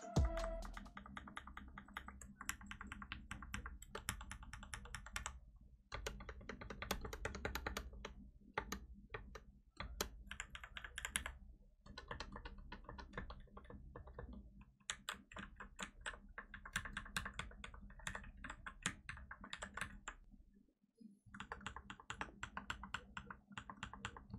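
Rapid, continuous clacking of mechanical keyboard keys with double-shot keycaps being typed on up close, with brief pauses between bursts.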